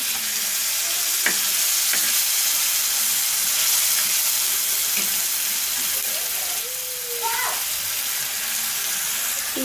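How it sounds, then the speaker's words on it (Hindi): Fish paste for fish biryani sizzles in hot oil, a steady bright frying hiss that runs throughout with occasional soft clinks and stirring sounds close by. "मछली तो अच्छी तरह फ्राई हो रहा है"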